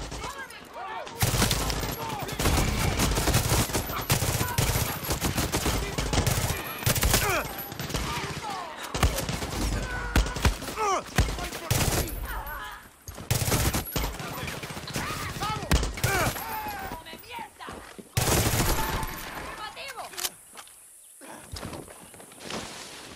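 Bursts of gunfire in the video game Far Cry 6, loud and dense volleys of shots packed through most of the stretch, with voices calling out between and over the firing before it thins to a brief lull near the end.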